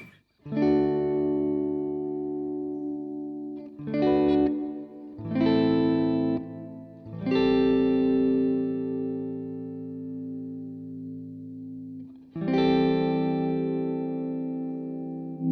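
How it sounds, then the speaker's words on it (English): Electric guitar chords ring out one after another through a modulated reverb effect, each sustaining with a wavering, shimmering reverb tail that lingers as the notes fade. "Modulated reverb is funny."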